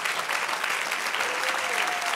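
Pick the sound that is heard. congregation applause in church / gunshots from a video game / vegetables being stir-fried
congregation applause in church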